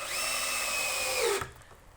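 A power drill drives deck screws into a wood board, a loud, close whine lasting about one and a half seconds that drops in pitch before cutting off sharply.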